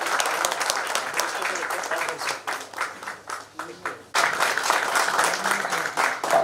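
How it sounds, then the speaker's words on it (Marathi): An audience at a workshop claps continuously, a dense loud patter that dips briefly and then swells again, with voices mixed underneath. "टाळ्या वाजल्या पाहिजे जोरदार सरांसाठी."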